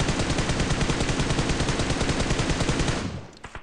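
Rapid hip-fire gunshots in PUBG Mobile ring out as a loud, continuous automatic burst for about three seconds, then cut off with a few scattered shots and clicks.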